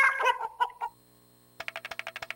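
Chicken clucking sound effect from the trivia game You Don't Know Jack: a few loud close clucks, a short pause, then a quick rhythmic run of a dozen sharp clucks.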